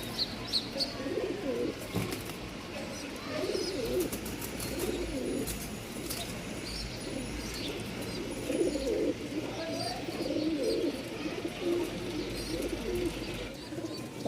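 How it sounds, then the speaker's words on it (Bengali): Male Jacobin pigeon coos at a pigeon market in Mirpur, with repeated rolling throaty calls and scattered chirps from nearby birds, heard close beneath someone talking. "অনেক দিন পর মন জুড়ানো একটা কবুতর নিয়ে আসছি, জ্যাকোবিন। সামনেটা হচ্ছে মেল, মেলের ডাক শুনতে পারবেন ইনশাল্লাহ।"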